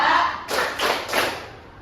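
Students stand and clap a short rhythmic chant at a math lesson, giving three broad clap bursts in a steady pulse, close and fairly loud.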